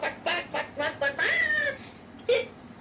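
Children's voices imitate a chicken's clucking during an online Sunday school game, a quick string of loud, close clucks followed by a drawn-out squawk and a final cluck.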